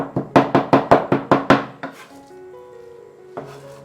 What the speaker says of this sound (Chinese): 然后我们再来剁一些肉末